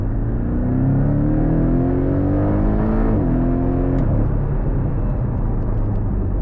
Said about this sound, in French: C'est vraiment grave pour un 4 cylindres au niveau sonorité.